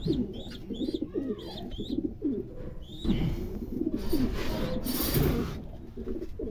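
Racing pigeons in a loft coo repeatedly in low, rolling phrases, close by, with brief higher chirps early on and rustling, scraping noises partway through.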